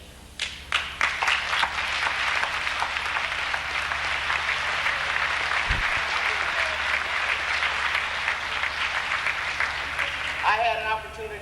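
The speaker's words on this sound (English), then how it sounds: "I think we once again need to give you an ovation." Sustained applause from an audience honoring the Silver Lane Elementary School children, a steady dense wash of clapping that stays loud throughout and tapers near the end.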